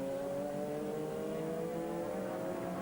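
GT race cars from the 2002 FIA GT season, including a Porsche and a Viper, roar onto a track's front straight, a sustained engine whine with rising harmonic tones, loud and continuous.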